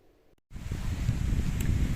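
Strong wind buffeting the microphone, a steady low roaring rush that starts abruptly and continues loud to the end.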